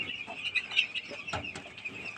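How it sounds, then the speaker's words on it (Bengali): Nine-day-old chicks on a poultry farm give soft, repeated high peeps and chirps, fairly faint and scattered over a low background. "আজকে মুরগির 9 দিন হয়ে গেল"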